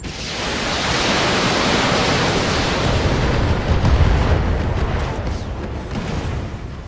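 Mech destroyed by a headshot in the BattleTech video game: a loud, sustained roaring blast of broadband rumble that holds steady for several seconds, swelling slightly midway, with no talk over it.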